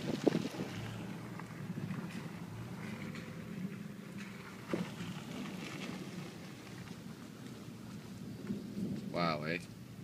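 Thunderstorm with steady rain follows a wind storm in Guelph, Ontario: a constant wash of rain and wind with low rumbling thunder rolling through, a sharper crack near the middle, and a brief voice-like tone near the end.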